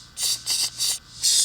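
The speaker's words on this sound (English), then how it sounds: "So what I'm gonna do is clamp it, twist it, tighten it, and go." Four short bursts of ratcheting, each a buzzy run of clicks, as a ratchet tightens a clamp on thin-wall tubing during a supercar build with a truck engine; close, in even bursts with brief pauses between.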